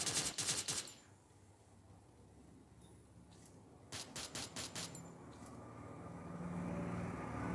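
Gunfire in the mobile battle game Free Fire MAX: a rapid burst of automatic shots opens, followed after a pause by another quick volley of sharp, loud bursts, then a low rumbling vehicle-like drone rising steadily to the end.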